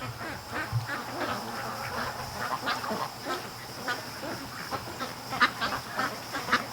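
Ducks quacking as they wade into mud after returning from a lake, a loose scatter of repeated quacks and honks at moderate distance over steady outdoor background noise.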